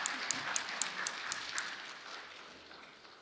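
Applause from a church congregation during a spiritual center service, a scattering of distinct claps at the start that soon fades into a soft wash of room noise.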